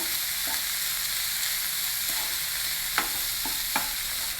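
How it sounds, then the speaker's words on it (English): Vegetables stir-fry lightly in a hot pan with a steady, loud sizzle, broken by a few sharp spatula scrapes and taps near the end. "Just stir fry them together lightly for 2 or 3 minutes"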